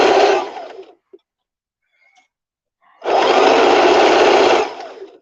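A sewing machine stitches a fabric headbow in two loud, steady runs, a short burst then a longer one, separated by a near-silent pause with faint clicks.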